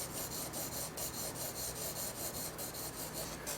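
A pencil shades even lines across paper in a continuous soft rasping scratch, with repeated back-and-forth strokes in a quick, steady rhythm, close up and faint, with no voices.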